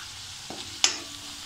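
Onion and Malvani masala are sautéed in a pan with a faint low sizzle, broken by two brief scrapes of a spoon stirring, the second one sharper and louder.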